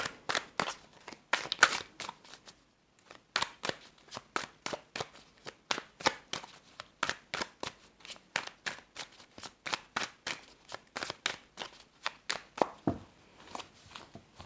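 Rapid bursts of cards being shuffled, riffled in repeated quick runs with short pauses between them, close and fairly quiet, no voices.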